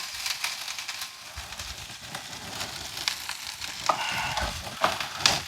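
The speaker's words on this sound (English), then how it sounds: "We want a little sizzle, not much," Cauliflower sizzles and crackles in a hot skillet, a steady frying hiss with occasional sharper pops and stirring scrapes.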